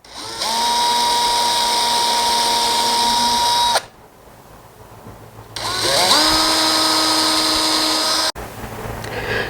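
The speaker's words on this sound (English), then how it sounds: "we'll take our 1/8 of an inch drill bit and we're going to drill a very small hole" A power drill with a 1/8 inch bit boring a small pilot hole into wood for a concealed cabinet hinge: two close, loud high-pitched whirring bursts, the second spinning up from a lower pitch, separated by a brief quiet pause.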